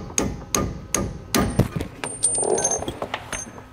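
Sharp hammer strikes tapping a suspension bushing through a trailer spring eyelet during a Dexter E-Z Flex suspension kit install on a 2021 Grand Design Imagine, about five or six loud metallic blows at uneven intervals with shop clatter between.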